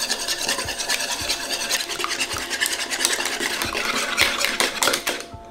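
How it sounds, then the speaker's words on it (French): Eggs are whisked with a whisk still coated in beaten butter while baking Christmas biscuits, producing a rapid, steady scraping and clicking against the bowl, close and busy for several seconds. "Je vais fouetter les œufs avec le fouet qui a battu le beurre."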